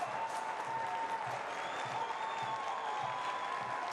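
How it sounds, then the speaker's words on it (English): Soccer fans applauding in a stadium during a San Antonio FC versus Tulsa Roughnecks playoff match, a steady, distant wash of clapping from a large crowd that holds even throughout with no breaks. "Certainly getting some applause and appreciation from the fans"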